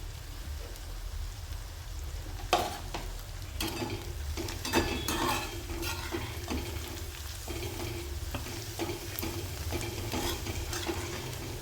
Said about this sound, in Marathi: कांदा पात पण 2 मिनिटं यात परतून द्यायचे आहे